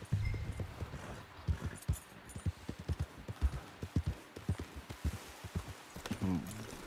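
Horses' hooves clip-clop in a steady walking rhythm in the video game Red Dead Redemption 2, close and fairly quiet, with a brief snort or whinny near the end.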